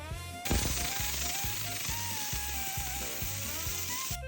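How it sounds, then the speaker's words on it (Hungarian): An Optima steam cleaner blasting 120-degree, 8-bar steam inside a small van's cargo area, a loud steady hiss starting abruptly with a burst, accompanied by a rhythmic mechanical pulsing and faint background music. "Majd következett az Optimának a 120 fokos 8 báros gőze"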